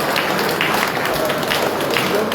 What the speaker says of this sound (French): C'est Gillian Elben que je demande d'applaudir et je lui demande de rejoindre.